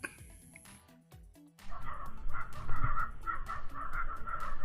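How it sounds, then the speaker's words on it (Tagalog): A dog barks repeatedly at some distance in a quick, uneven series over outdoor night background noise in the Philippines, after a quieter stretch with faint clicks and tones. "ang ingay ng aso"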